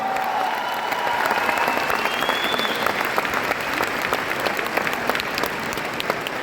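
At a Vestige awards function, a large audience claps loudly for the bronze directors, a thick, continuous roar of hands that stays even and sustained throughout, with a faint tonal whistle rising near the start.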